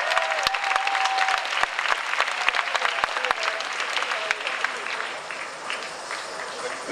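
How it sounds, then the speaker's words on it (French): Crowd applause at a Japan Expo 2007 cosplay stage event, dense steady clapping with a few sharp individual claps standing out, holding loud before tapering slightly toward the end. "On l'applaudit bien fort."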